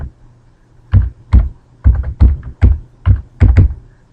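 Keyboard keys tapped in short, irregular bursts of about a dozen clicks and thunks, close and fairly loud over a low hum, while a file name is typed into a computer, with no talking.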